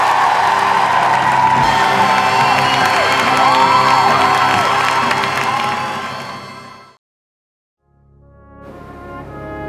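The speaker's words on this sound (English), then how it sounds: "Give yourselves a round of applause for what you have achieved." A large crowd cheers and applauds loudly alongside blaring horn-like tones, the din cutting off abruptly into a second of silence before resuming somewhat quieter.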